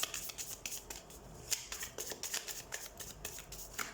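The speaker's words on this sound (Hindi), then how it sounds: "तो सबसे पहले हम कार्ड शफल कर लेते हैं।" Tarot cards being shuffled by hand, a close, crisp run of rapid riffling and sliding flicks over about four seconds, with no talking.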